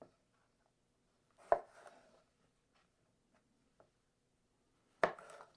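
A knife strikes chili peppers on an old wooden cutting board in two sharp, isolated chops a few seconds apart, with a faint small tap between them in an otherwise quiet kitchen.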